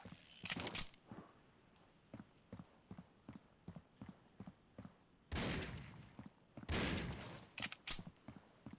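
Gunfire in the Critical Ops mobile shooter, with rapid single shots and short bursts in an uneven rhythm plus two longer sustained volleys, heard close and fairly loud.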